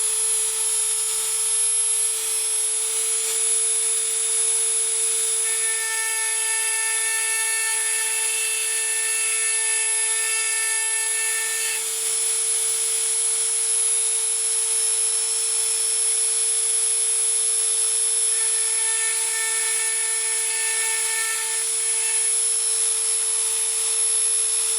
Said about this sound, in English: I have a little diamond burr on my Dremel, and I'll just quickly rough those up